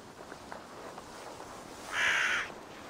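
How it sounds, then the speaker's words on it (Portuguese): A crow cawing in the video game Assassin's Creed Valhalla, one loud harsh caw near the end standing out above quiet ambient noise and a few soft steps. "a gralha fazendo barulho aqui"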